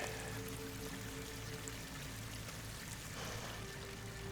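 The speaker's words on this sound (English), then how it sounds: "Water's coming in." Steady rushing water pours and streams continuously into an enclosed space in Horizon Forbidden West, a dense low wash with no pauses, filling the scene at moderate loudness.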